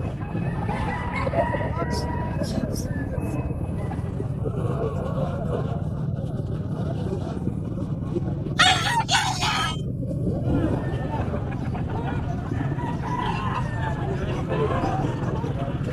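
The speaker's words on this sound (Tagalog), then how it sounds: "Ito mga manok ah, mga tol." Roosters crow amid a busy bird market in Angeles where chickens and pigeons are sold, with a short burst of crowing rising over constant crowd murmur and nearby people talking.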